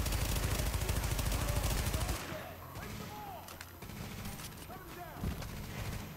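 Dense, loud automatic gunfire from The Division beta video game rattles steadily for about two seconds, then drops to scattered shots and distant fire under faint voices.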